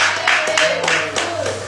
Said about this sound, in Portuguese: Vamos dar mais uma salva de palmas para Jesus.